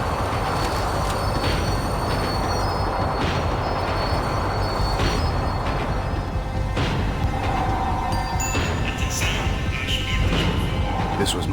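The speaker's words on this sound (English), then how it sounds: "The tram was slowing down, and I'd only just gotten on board." A tram in the video game Max Payne 3 rumbles steadily as it slows, with continuous rail noise, wheel squeal and occasional clanks, close and loud throughout.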